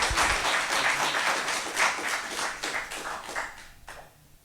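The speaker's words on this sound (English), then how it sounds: "Big round of applause." An audience at an event applauds after a question session, a steady patter of clapping hands that thins out and fades toward the end.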